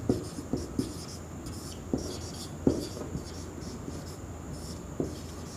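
Marker or chalk scratching on a board during a Class 9 maths lesson on decimal expansion, with short irregular strokes and taps over a quiet room hum.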